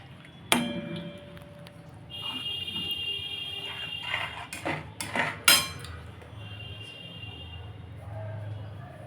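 A metal spoon scrapes and clinks against a pot while powdered milk is stirred into hot milk, giving a few ringing knocks and scraping strokes over a low background hum.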